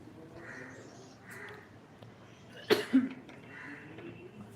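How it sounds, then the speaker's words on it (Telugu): Two short coughs from a person nearby who has a cough, sharp and close, standing out over quiet background noise with faint bird calls. "నాకు అందులో కొంచెం దగ్గు వస్తుంది"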